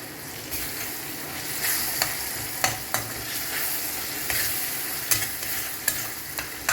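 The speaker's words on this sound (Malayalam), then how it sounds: "നമുക്കൊന്നുകൂടെ നന്നായിട്ട് ഇളക്കി കൊടുക്കാം അടി പിടിക്കാതെ നോക്കണം കേട്ടോ" Chicken curry masala with tomato sautéed and stirred in a pan, a continuous close sizzle with repeated sharp scraping and tapping strokes of a spoon against the pan at an uneven rhythm.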